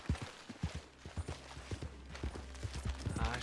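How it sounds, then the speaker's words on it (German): Horse hooves clip-clop at a steady walking pace in Red Dead Redemption 2, close and fairly quiet, with faint background ambience and a brief voice near the end. "warum ich hier drüber latsche mit dem Pferd"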